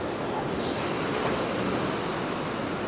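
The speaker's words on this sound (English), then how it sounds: "We've got a nice little bit of surf there" Sea surf washing onto a beach, a steady roar of breaking waves close by with wind noise mixed in and no voices.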